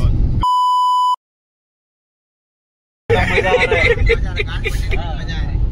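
A single sharp steady censor beep, a pure tone with ringing harmonics lasting under a second over outdoor trek speech, followed by silence and then loud nearby talk with traffic noise.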